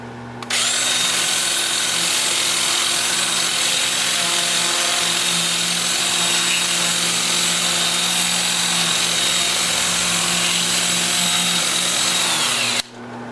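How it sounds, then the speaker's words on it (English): A power drill fitted with a 2-inch sanding disc whines steadily while sanding a turned wooden bowl, one loud continuous run of nearly thirteen seconds with a constant high-pitched drone that cuts off abruptly at the end. "I will switch to my 2-inch disc starting at 80 grit and working up through 400 and sand all of the turn parts"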